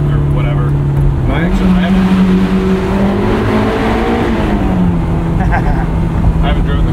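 2001 Honda S2000 engine revving out to redline on the road, a loud rising howl that climbs and holds before dropping back, heard from inside the cabin with voices talking over it.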